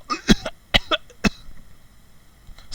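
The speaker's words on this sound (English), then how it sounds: "You, of course, begin to cough." Three or four sharp, close coughs come in quick succession in the first second and a half, followed by quiet with a faint rustle at the end.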